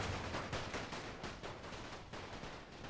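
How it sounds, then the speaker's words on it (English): Massed rifle infantry volleys in a WW1 battle at Verdun, from the Great War Total War mod, sound as a dense, continuous crackle of overlapping gunfire, steady and somewhat distant with no voices. "we're falling back into my main line of rifle infantry firing here"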